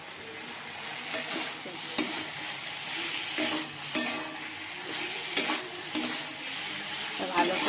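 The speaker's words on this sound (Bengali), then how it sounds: "লাল লাল করে আলুগুলো ভেজে নিয়েছি, পটলগুলো দিয়ে দেবো।" Fried potatoes and pointed gourd sizzle in oil for a fish curry while a spatula stirs them in a steady rhythm of scraping strokes, close and clear, with a few words spoken briefly over it.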